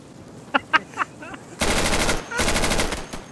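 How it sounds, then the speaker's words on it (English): Automatic rifle fire in Insurgency comes in two long, loud bursts after a few sharp scattered sounds, close and dominant. "I fired like 200 rounds"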